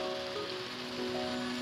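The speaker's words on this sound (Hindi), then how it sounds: "और बारिश इतनी तेज़ शुरू हो गई है।" Heavy rain falling steadily, a dense, even hiss of drops on surfaces, continuous and fairly loud with a faint tonal hum underneath.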